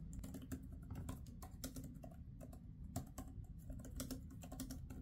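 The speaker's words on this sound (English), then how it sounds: "Then use the keyboard." Steady typing on an Apple Magic Keyboard attached to an iPad Pro, a close run of soft, quick key clicks in an uneven rhythm over a low background hum, with no voices.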